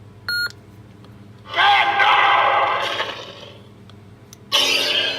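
A lightsaber prop's sound-font ignition: electronic beeps, then a loud buzzing hum surges up and sustains for about a second and a half before fading, followed by another sudden ignition burst.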